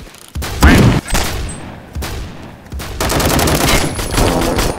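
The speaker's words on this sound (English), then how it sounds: "He keeps shooting me." Roblox Phantom Forces gunfire: dense, loud automatic fire in sustained bursts with brief gaps, close and continuous through most of the stretch.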